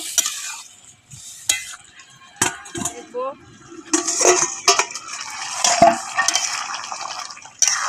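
Spoon scraping and clinking against a pan while gourd and fish curry is stirred, several sharp metallic knocks spread irregularly over a soft sizzle, with occasional faint voice in the background.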